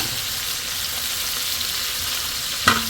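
Giant freshwater prawns sizzle steadily in hot oil in a pan just after being flipped, a constant close frying hiss with a brief sharp clack near the end.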